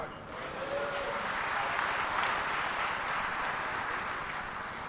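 Crowd applause at a political party's 62nd anniversary celebration speech in Malaysia: a steady, dense wash of clapping that holds at an even level for the whole stretch, with no voices standing out.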